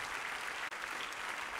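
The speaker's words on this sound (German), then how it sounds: "Geben wir den Herrn einen starken Applaus." An audience in a church applauds the Lord, a steady dense clapping that holds at even volume throughout with a brief dip in the middle.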